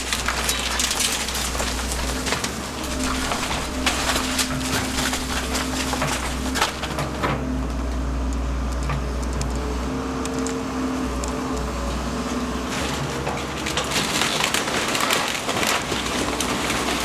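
Steady rain pouring down around a house site, a dense, even hiss that holds throughout, with occasional bird calls and faint knocks in the background.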